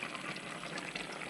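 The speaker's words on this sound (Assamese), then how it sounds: "কেৰাহীত উতলি আছে, মাছ বনি আছে।" Fish bubbling away in a kadai, a steady, close, continuous wet boil and sizzle running through the whole short moment, with no voices.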